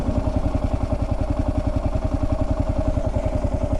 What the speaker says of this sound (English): Man, just listen to that thumper, huh?